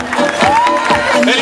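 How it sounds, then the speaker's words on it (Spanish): A festival audience at a queen election applauds and cheers loudly for a contestant, a dense burst of clapping and whoops with a rising voice riding over it, brief and close. "Fuerte el aplauso"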